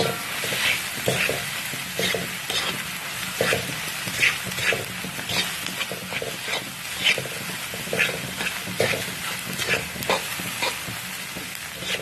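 Potatoes and eggs fry in a pan with a loud, crackling sizzle broken by frequent stirring scrapes, close and continuous, with no talk.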